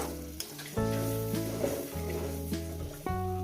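Spice paste sizzles and fries in a pan while chicken kosha is cooked, a steady, soft crackle sitting beneath louder background music.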